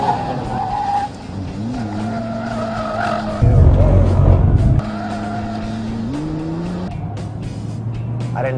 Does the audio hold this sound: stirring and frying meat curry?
no